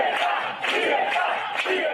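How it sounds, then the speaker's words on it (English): A large crowd of Venezuelan protesters shouting against President Nicolas Maduro, a dense, loud roar of many voices swelling in waves, with no single speaker standing out. "The crowd condemning longtime Venezuelan socialist president Nicolas Maduro"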